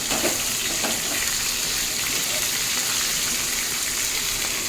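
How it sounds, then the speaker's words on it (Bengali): A large rohu fish fries in hot oil, with oil repeatedly spooned over it, producing a loud, steady, close sizzle with light splashing and scraping throughout. "মাছটা যেহেতু বড়, তেলগুলো একটু লেট পর্যন্ত ডুবিয়ে ডুবিয়ে দিচ্ছি।"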